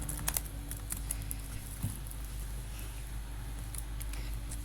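Scattered keystrokes on a computer keyboard while code is typed, a few quick clustered taps over a steady background hum, fairly faint and close.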